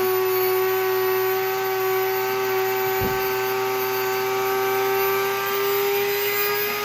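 An electric grain mill grinds whole grains into flour with a loud, steady motor whine that holds throughout, rising slightly in pitch as the hopper empties, with a single brief knock partway through.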